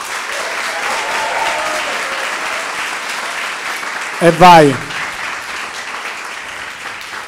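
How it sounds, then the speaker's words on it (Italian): Studio audience clapping at the opening of an Italian talk show episode, a steady, fairly distant wash of applause with a brief shouted voice breaking through near the end. "applauso"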